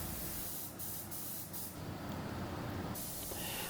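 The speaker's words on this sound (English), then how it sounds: "And now time to spray the clear coat." Spray gun laying clear coat onto a GWM Cannon bonnet, a steady close hiss broken by a few short pauses between passes, with no talk.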